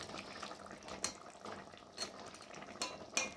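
Fish (parshe) being stirred into curry gravy in a cooking pot: soft wet sloshing with a few sharp clinks of a utensil against the pot, spaced about a second apart.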